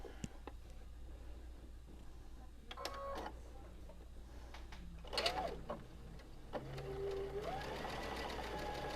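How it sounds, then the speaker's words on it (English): A sewing machine stitches a pleated tree quilt block in quiet, close bursts of rapid mechanical whirring, separated by brief pauses and small clicks. "Open it up and sew the other side."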